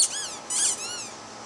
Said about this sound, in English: He's playing with a squeaky ball.